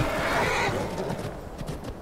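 A horse in the video game Skyrim neighs loudly in a drawn-out whinny close by, with hoof clip-clops mixed in over roughly two seconds before it trails off.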